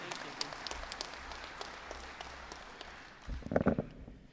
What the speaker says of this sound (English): please give him a round of applause because he deserves this just as much as me